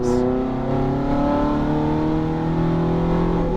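A Ferrari F430 F1 accelerates on a race track, its engine note a loud, steady rising whine with strong harmonics that climb smoothly throughout, close and continuous with no voices.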